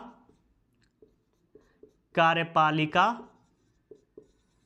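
A pen writing notes by hand makes sparse, faint, scratchy ticks and short strokes, with someone speaking briefly in the middle over them.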